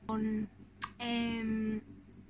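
A baby daughter coos and vocalizes while playing under a baby gym, making two drawn-out tonal sounds separated by a short click, close and clear.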